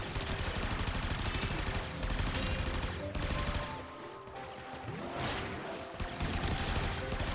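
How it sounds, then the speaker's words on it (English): Super machine gun in the video game Warframe firing in sustained loud bursts, a dense rapid rattle with a brief dip midway before resuming, mixed with game effects and no speech. "The Super isn't a charge up, it's a machine gun."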